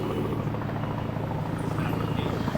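A helicopter's steady rotor thudding and engine roar, loud and close, with faint voices underneath.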